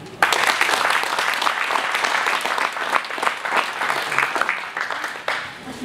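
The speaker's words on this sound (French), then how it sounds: "et puis Aline, la technicienne de la Chambre d'agriculture que l'on peut applaudir" Steady audience applause at an agricultural fair in Saint-André-les-Alpes, many hands clapping densely and fairly loudly for about six seconds, close by and without a break.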